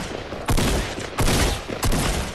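Loud bursts of Fortnite gunfire, three heavy volleys of rapid shots spaced about a second apart, close and punchy over steady game background.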